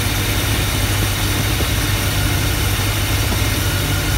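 A Chevrolet 350 V8 with an Edelbrock carburetor idles steadily in a square-body truck, a loud, even, low rumble that holds constant throughout with no talk over it.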